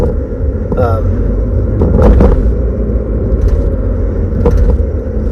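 A car driving along a road, heard from inside the cabin as a steady low engine and road rumble with a few brief clicks and knocks, while a voice talks over it.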